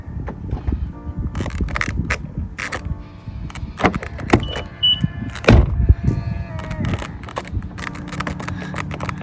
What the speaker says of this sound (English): how much noise it makes every time that I go to open the car